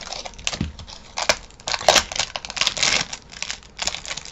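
Package being unboxed for a Gorjuss item, with crinkling, tearing and scratching of packaging in quick irregular bursts, fairly close and moderately loud, with no talking.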